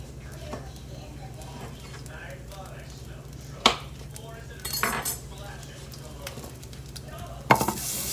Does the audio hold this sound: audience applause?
no